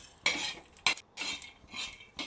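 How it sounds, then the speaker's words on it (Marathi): Peanuts dry-roasting with coconut and whole garam masala spices in a pan, stirred with a metal spoon in short scraping bursts, close and clear with no talk. "शेंगदाणे पण छानपैकी असे भाजून घेऊया"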